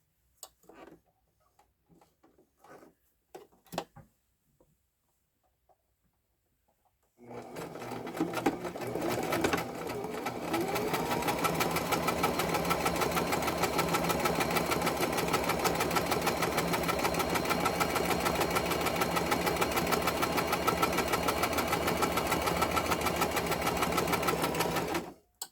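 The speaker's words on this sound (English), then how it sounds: "my sewing machine is sighing relief from all the paper I've done recently" A home sewing machine runs steadily and fairly close for a long stretch, a dense mechanical whir with rapid stitching ticks, after a few seconds of scattered quiet handling clicks and taps.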